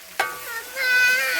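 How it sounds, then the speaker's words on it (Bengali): Meat for a large biryani batch frying in a pan while being stirred: a sudden scrape, then a steady sizzling hiss, close, with a faint high voice in the background. "ভাজা মাংস। ভাজাটা কি হয়েছে? না এখন সিদ্ধ হয়নি।"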